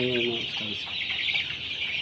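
Ailing broiler chickens on a poultry farm cluck, with a brief, clear call at the start followed by softer, continuous murmuring from the flock close by.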